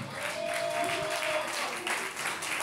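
A live audience claps and cheers at an Armenian evening celebration, honouring a guest; a dense, steady wash of applause runs through the whole moment, with a whistle or tone rising briefly over the crowd noise.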